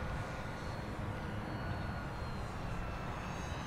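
Dynam PT-17 RC model airplane flying over a paved runway: a faint, steady, distant motor buzz that holds evenly throughout, with no talking.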